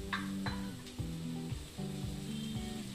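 Potatoes go into a hot pan for kande pohe, giving a close, steady sizzle of frying with a few sharp stirring clinks, under background music and without talk.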